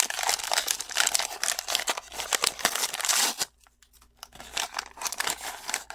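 Close, loud crinkling and rustling of packing paper pulled from an action figure box, in bursts with a brief quiet gap midway, no talk.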